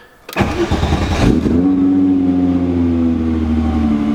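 A car engine cranks briefly, catches and starts, then settles into a steady, loud idle hum that continues to the end.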